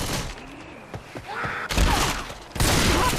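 Rapid gunfire bursts from the video game Left 4 Dead 2, loud and close, in several volleys with short gaps, heard alongside game sounds.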